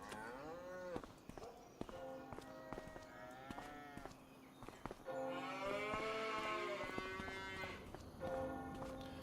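Several cows moo in a cattle barn in Farming Simulator 25, long drawn-out calls overlapping one another at close range, with a louder chorus of lowing in the middle and faint bell-like tones behind.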